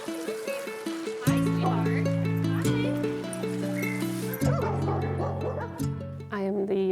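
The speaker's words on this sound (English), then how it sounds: "you'll find the store alive with the sounds of dogs barking" Dogs barking at a doggy daycare store in Minnesota, several loud yips and barks in quick bursts with overlapping voices and a steady hum in the background.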